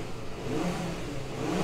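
A five-cylinder car engine revs up and down steadily, a close, throaty mid-pitched rumble with no talking.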